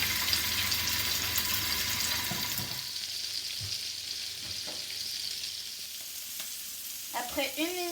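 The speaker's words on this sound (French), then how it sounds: "maintenant que la poêle elle est bien chaude, on va mettre les Saint-Jacques côté assaisonnés et on va faire cuire 1 minute de chaque côté" Seasoned scallops placed into a hot frying pan, a strong hissing sear at first that settles into a quieter crackle, with a few clicks and a brief squeaky scrape near the end.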